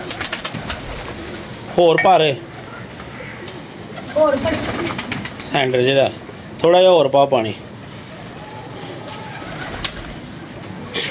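Pigeons coo in a backyard setting, their low calls coming in short bursts mixed with people talking nearby.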